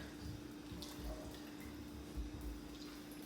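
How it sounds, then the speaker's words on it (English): Water is poured from a tap into a pan of seasoned ribs with olive oil and spices, a faint, steady trickle running for a few seconds under a low background hum. "a little bit of water"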